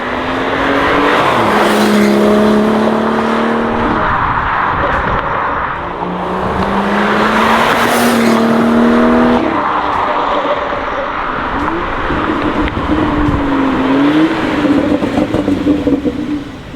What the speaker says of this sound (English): I could hear the turbo whistle all the way down the street though.